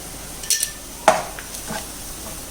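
A metal spoon stirs and scrapes a pan of tomato rice masala with homemade sambar powder, giving a few sharp clinks and taps over a soft, steady sizzle.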